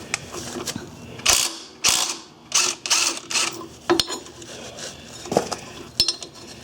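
Metal ratchet clicking in short bursts as a 5/8 socket turns the bolt holding the double pulley on an MTD riding mower, close and fairly loud, with pauses between strokes and occasional clinks of tools.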